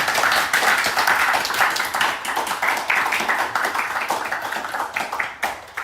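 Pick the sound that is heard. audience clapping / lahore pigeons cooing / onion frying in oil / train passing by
audience clapping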